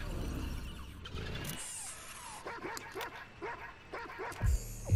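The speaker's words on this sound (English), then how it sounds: "Dog, you don't see anything." A dog in Watch Dogs 2 gives a run of short, close yips and whimpering barks in quick rhythm over game background noise, with a louder thump at the end.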